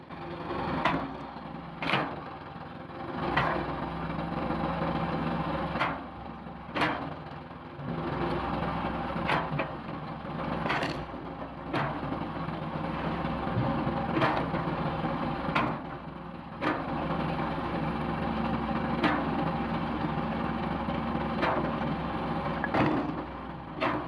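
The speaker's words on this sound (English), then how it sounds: "Amid the steady growl of the engine and the scent of fresh oak, a woman stands beside the Wolf Ridge Pro 28C" Engine of a Wolf Ridge Pro 28C wood splitting machine working fresh oak, a steady growling drone punctuated by regular sharp knocks and clacks at roughly one-second intervals.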